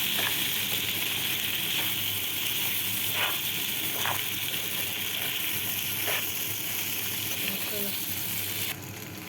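Boiled, softened pasta is tossed and folded in a hot pan, giving a constant loud sizzle with a few soft scraping strokes. The sound thins out near the end.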